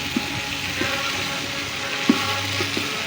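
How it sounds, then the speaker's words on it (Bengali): Chili and spices fry in a pan with a steady broadband sizzle, and a few soft stirring clinks and scrapes break through at intervals. "মরিচ দিয়ে কষাচ্ছি"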